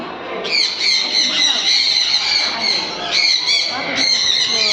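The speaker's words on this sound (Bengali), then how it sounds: "এই দেখুন টিয়া দেখ" Parrots squawk inside a bird aviary in a run of loud, shrill, harmonic cries, with bursts starting near the beginning and returning twice toward the end over rustling background noise.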